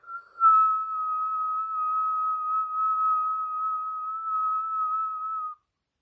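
A person whistling a single long steady note, clear and pure, held evenly for about five seconds close up after a brief breathy start, then stopping abruptly with no talk.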